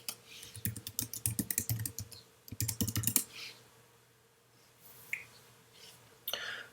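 Someone types on a computer keyboard to log in, in quick close bursts of clicking keys, then a pause with a few scattered taps near the end.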